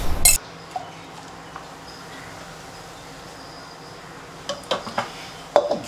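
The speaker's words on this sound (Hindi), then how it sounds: "घी को अच्छे से मिक्स कर लो" A spoon stirs ghee into coffee in a cup, giving a bright clink at the start, then a long quiet stretch, and a cluster of sharp metallic taps against the cup near the end.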